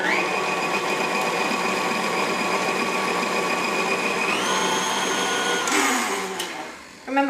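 A standing electric mixer beats batter in a home kitchen with a steady, loud motorized whir that holds even, shifts pitch partway through, then winds down near the end.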